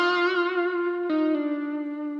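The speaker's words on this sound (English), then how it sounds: "So just add a little distortion to your sound" An electric guitar played through a distortion effect sustains a single buzzy, harmonic-rich note, then shifts to a slightly lower sustained note partway through, heard alone and fairly loud.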